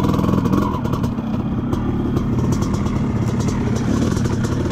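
A KTM dirt bike engine, run hard during a motocross shakedown with a worn clutch, keeps up a loud, close, steady rumbling drone with rough clattering texture for the whole stretch and no clear break.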